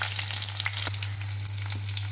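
Four crushed small onions fry in hot oil with mustard seeds and dried chillies for crab rasam, giving a steady, close sizzle with a few light crackles over a low background hum.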